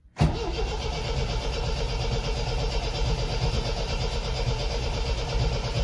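An MGB GT engine, unused for months, catches after a brief crank and settles into a steady, rough, loud idle heard up close.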